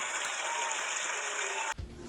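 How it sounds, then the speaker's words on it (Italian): Recorded applause rings out at a home variety show, a dense, steady clatter of many hands under a constant high tone, cutting off abruptly near the end. "Applausi!"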